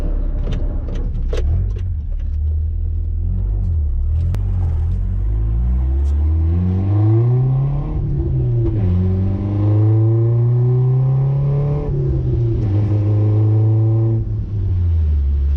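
Car driving on wet roads, heard from inside as a loud, continuous engine drone that rises and falls through gear changes, with a few faint clicks and rattles early on and no talking.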